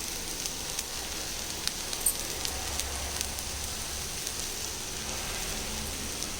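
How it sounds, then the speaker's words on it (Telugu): Flat beans frying in a pan, giving a steady, even sizzle that carries on throughout with no break and no talking. "కొంచెం పచ్చివాసన పోయేలాగా ఇలా ఫ్రై చేసుకోవాలండి"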